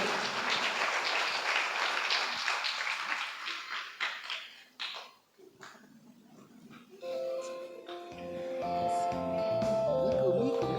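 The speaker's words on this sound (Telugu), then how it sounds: "గురువురేణులకు గట్టిగా చప్పట్లు కొట్టి అభినందనలు తెలియచేద్దాం" Audience clapping at a church golden jubilee ceremony, a burst of applause that fades over several seconds before sustained tonal music or singing takes over.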